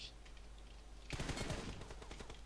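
Burst of rapid gunfire in the mobile battle-royale game PUBG Mobile, a loud cluster of shots lasting about a second, set against a quiet game background with no talk.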